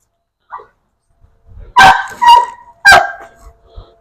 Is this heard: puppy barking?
yes